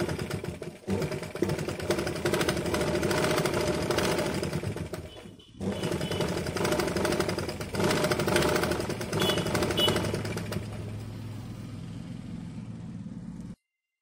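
A sewing machine stitches a blouse neck piece made with saree border fabric, its steady close whirring hum running continuously, pausing briefly once, then stopping near the end.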